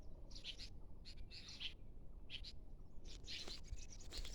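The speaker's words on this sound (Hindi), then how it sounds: "बस चिड़ियों की आवाज़ सुनने को मिल रही है," Several birds chirp and tweet in short bursts across a quiet rural hillside property, the calls coming from moderate distance with brief pauses between them and low outdoor background hiss.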